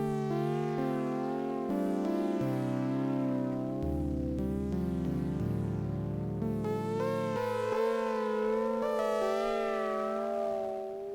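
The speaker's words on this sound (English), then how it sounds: "we can use noise instead, and that makes for this gritty," Dreadbox Artemis analog synth with noise-driven filter FM, playing a gritty, buzzy tone as a sequence of sustained notes that step between pitches, loud and alone.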